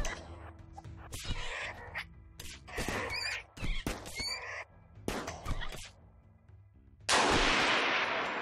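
Gunfire in the Rimworld video game: several sharp, loud shot bursts scattered among game sound effects, ending in a sustained noisy blast.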